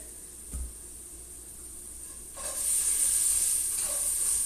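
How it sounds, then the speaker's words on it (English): Steady hiss of food sizzling in a pan, growing louder partway through, with a faint background hum and no talking. "Can you guys hear the sizzle?"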